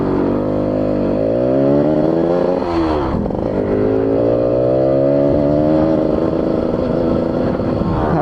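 A small motorcycle engine revs loudly during carburettor tuning of a FIZ R versus RC 100 setup, holding a steady high drone, dropping sharply around midway, then climbing back to a sustained rev.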